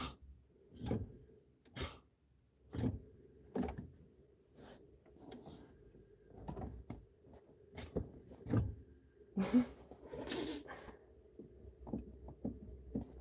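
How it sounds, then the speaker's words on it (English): Brake pedal pumped repeatedly in a parked car with the engine switched off, giving a series of soft thuds and clicks at an uneven, roughly one-per-second pace, close and fairly quiet with a faint background hum. "Here's some pedal pumping with the car off."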